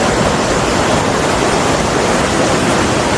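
River water rushes steadily at Sungai Dara campsite near Tanjung Malim, a loud, even broadband flow with no break and no voices.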